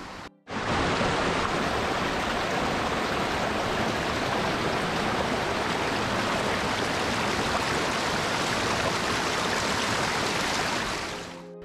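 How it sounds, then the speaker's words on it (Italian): Broadband rushing water from a mountain stream at Brent de l'Art flows loud and steady, starting abruptly after a brief silence and holding constant until it fades at the end. "c'è questo rumore continuo dell'acqua che dà veramente una bellissima sensazione, meravigliosa"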